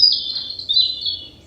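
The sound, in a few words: bird chirping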